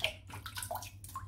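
Safety razor dipped into a sink of water while shaving with pear-scented soap, a short close burst of sloshing and splashing with gurgling drips.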